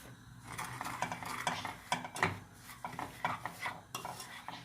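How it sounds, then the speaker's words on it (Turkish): Semolina stirred and roasted in oil with a wooden spoon for semolina halva, giving repeated scraping and clattering strokes against the pot over a low sizzle. "Bir tane tahta kaşıkla kavuracağız."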